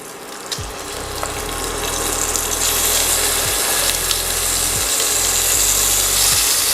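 Oxtail searing in hot oil in a pan gives a loud, steady sizzling hiss that swells over the first seconds and holds, with a low hum running underneath.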